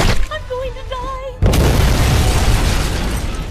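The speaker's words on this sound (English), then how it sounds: "Did you die to the explosion or something?" A loud explosion bursts in Counter-Strike, cutting off a brief tone and giving way to a sustained, roaring rumble that lingers for a few seconds.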